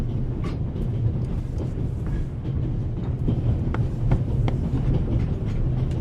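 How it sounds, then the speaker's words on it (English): Inside a moving Orient Express carriage, a steady loud rumble of wheels and car body fills the space, with faint rhythmic clicks and rattles over the continuous roar and no talk. "The noise on this train is driving me crazy."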